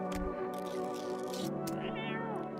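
A cat meows in the video game No, I'm Not A Human, a drawn-out, wavering cry near and loud, ending on a rising-and-falling wail, with no speech.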